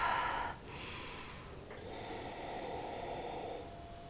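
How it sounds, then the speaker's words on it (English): A slow, deep breath drawn in and let out during a seated yoga stretch, soft and close, with a brief snort-like inhale at the start and quiet airflow after. "just let yourself take a few breaths here."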